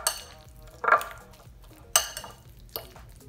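A fork mixing keto egg salad with ripe avocado in a bowl, a few close sharp clinks and scrapes against the dish spaced about a second apart, with quiet pauses between and no talk.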